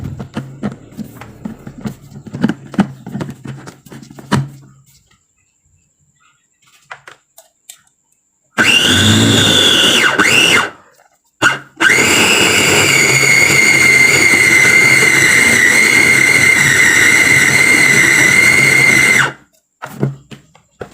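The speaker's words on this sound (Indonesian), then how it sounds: "kemudian aku blender" Kitchen blender whirring loudly as it mixes chopped chicken with oyster sauce, cooking oil and tapioca flour for homemade chicken dim sum, running steadily in two bursts after quieter kitchen clatter.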